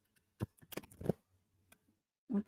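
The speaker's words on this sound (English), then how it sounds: "Give you another shuffle." Tarot cards shuffled by hand, a few soft riffling and tapping bursts, quiet and close, with gaps between them.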